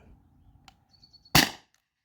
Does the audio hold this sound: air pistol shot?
yes